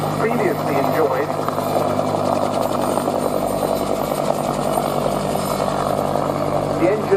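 A Westland Whirlwind helicopter with a Gnome turboshaft engine, at an international air day, runs with a loud, steady turbine whine and rotor thrum that hold throughout.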